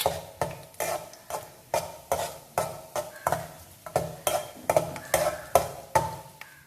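Cashews and coconut pieces being stirred while frying in a pan for a coconut sweet, a loud close-up run of rhythmic scraping strokes roughly every half second over a soft sizzle.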